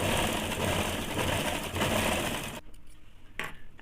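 A sewing machine stitches a saree blouse in a fast, steady mechanical whir for over two seconds, then stops, leaving a few short clicks and handling sounds.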